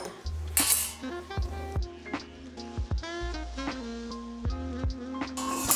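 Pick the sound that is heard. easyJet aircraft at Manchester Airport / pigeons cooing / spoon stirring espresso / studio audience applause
spoon stirring espresso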